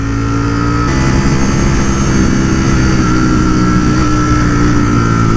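A Ducati Streetfighter V4S motorcycle engine roars loud and steady on a canyon road, a continuous close throaty drone with a slight shift in pitch early on.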